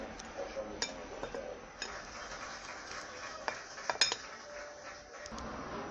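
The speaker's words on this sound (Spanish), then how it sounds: "Mezclamos los ingredientes." A utensil scrapes and clinks against a bowl while egg, flour, chopped vegetables, a splash of oil and salt are mixed together. The stirring is quiet, close and irregular, with a few sharper taps.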